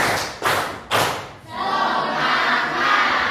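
Audience in an Indonesian classroom training session clapping in unison as a group cue, with sharp loud claps near and then a broad crowd noise following.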